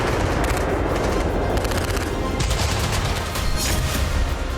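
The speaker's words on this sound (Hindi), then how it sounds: "पिंगटुंग में ताइवान की वायुसेना लाइव फायरिंग का अभ्यास कर रही है।" Taiwanese air force live-fire weapons exercise in Pingtung, with dense, continuous bursts of rapid gunfire and booming reports filling the whole stretch, loud and sustained with no talking.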